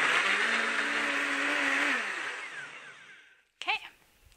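A kitchen blender whirs loudly while blending melon seed milk, its motor droning steadily and then winding down to a stop, followed by a brief clatter.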